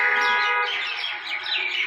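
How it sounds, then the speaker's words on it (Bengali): Birds that have flocked onto rooftops and billboards call in a brief, bright cluster of overlapping chirps and tweets from nearby, with no talking. "নিচে বিলবোর্ডের উপরে সব জায়গায় খালি পাখি ভরে গেছে আজকে"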